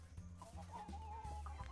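Chickens in the farming game Dinkum cluck in short bursts, several overlapping calls close together over a soft, steady background.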